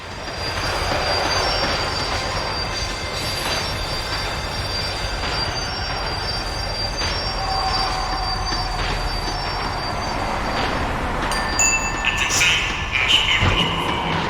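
Tram in the video game Max Payne 3 slowing down, its wheels squealing steadily against the rails over a continuous rumble, with sharper metallic screeches building toward the end.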